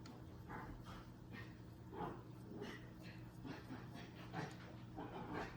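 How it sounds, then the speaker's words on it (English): A dog whimpers and pants softly nearby, in faint, irregular breaths and small whines over a low steady background hum, with no talk. "that is my dog being a dog"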